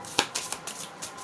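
Oracle cards shuffled by hand up close, a series of crisp papery slaps and flicks in an irregular rhythm, moderately loud with no talk.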